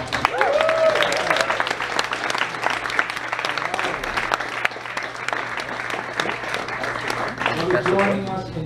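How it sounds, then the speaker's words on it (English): A crowd at a book signing applauds and cheers for the cast of The Room, dense clapping filling the room with whoops and voices calling out over it throughout. "let's give them a great big holler and hello and applause"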